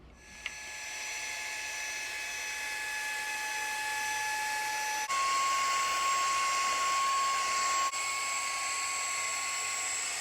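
Handheld cordless car vacuum with a small brush attachment cleaning a mini split, a high whining motor whir that holds steady and shifts pitch as it works, close and continuous with no speech.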